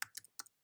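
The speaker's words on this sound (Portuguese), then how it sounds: "eu posso digitar aqui desenho" A few quick, crisp keystrokes on a computer keyboard, close and quiet, in a short isolated burst.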